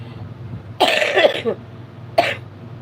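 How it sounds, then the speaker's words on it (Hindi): Two bursts of coughing, a longer rough fit followed by a single short cough, fairly close over a steady low hum. "जैसे 100 साल के बुढ़ो खांसी आवत है ना।"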